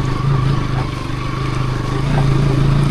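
Motorcycle engine at a steady drone while riding along a rainy hill road toward Parewa Dada in Lamjung, loud and close with a low rumble and slight rise in pitch toward the end, no talk.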